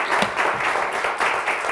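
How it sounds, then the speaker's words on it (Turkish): Consolation applause from a quiz show studio audience, a continuous, fairly close crowd clapping with a steady rolling texture throughout, no talking over it. "Bize bir avuntu alkışı daha vermişsiniz."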